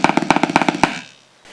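An Anak drum plays a fast, continuous roll of evenly spaced strokes for about a second, then the sound rings out and fades into silence.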